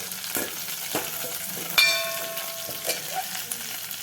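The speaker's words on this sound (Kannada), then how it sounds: "ಆಮೇಲೆ ಒಗ್ಗರಣೆಗೆ ಸ್ವಲ್ಪ ಒಣಮೆಣಸಿನ್ಕಾಯಿ ಹಾಕೋದು" Dry Byadagi chillies crackle in hot tempering oil for dal tadka, a busy sizzle broken by a sharp metallic clang from the pan partway through and a few light stirring knocks.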